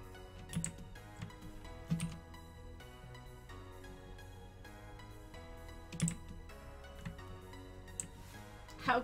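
Mechanical computer keyboard clicking in a loose, irregular typing rhythm, with a few sharper louder keystrokes over a steady low background hum.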